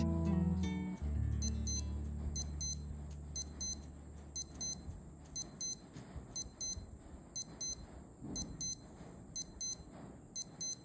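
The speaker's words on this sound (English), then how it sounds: "Finally, let's compare the alarm sounds. Here's the Skmei 1278." A Skmei 1278 digital watch alarm beeps in quick high-pitched double bursts, repeating at a steady rhythm after a brief louder clatter at the start.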